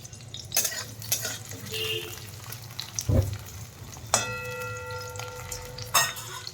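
Onions and curry leaves frying in white oil make a continuous sizzle, with spoon scrapes, a couple of metallic clinks and a ringing utensil tap partway through.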